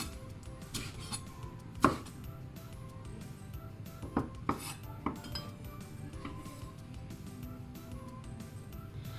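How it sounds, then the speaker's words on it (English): Fresh basil being roughly chopped with a knife on a cutting board: irregular taps and a few sharper knocks, fairly faint and close, with light clinks of kitchenware between strokes. "So the basil, right, just roughly chop it."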